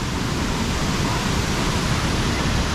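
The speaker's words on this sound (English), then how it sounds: "Here it is, the falls." Kuang Si waterfall in Luang Prabang, Laos, a raging cascade of turquoise water, roars as a steady, dense broadband rush that holds at one loud, unbroken level with no voices over it.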